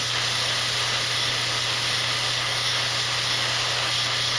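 Lacquer paint sprayed onto a plastic model kit, a continuous close airbrush hiss with a steady low hum underneath, unbroken for the whole stretch and with no voices.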